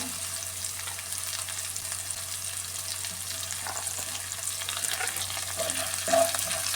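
Dried red chillies, shallots and curry leaves sizzle and crackle in hot oil, a steady bright frying hiss with occasional pops and light stirring, close and moderately loud.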